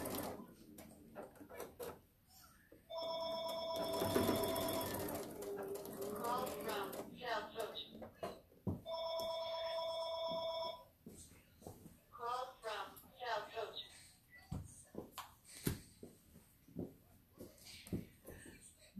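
A telephone rings in two separate bursts of steady electronic tones, clear and fairly close, with talking and small household noises in between.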